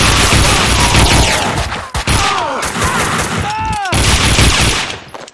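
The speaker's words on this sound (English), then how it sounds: "Someone must have heard the gunfire." Rapid, loud gunfire from the video game Max Payne 2 rattles in dense bursts of shots with booming impacts, a brief gap midway and a short whining sound effect, overlapping game voices.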